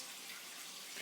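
Water running from a tap: a steady, even hiss of flowing water, continuous and close, faint overall with no other sounds.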